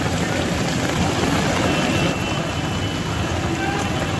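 Heavy rain pours in a dense, unbroken roar across the whole clip, loud and close, with no gaps or distinct voices.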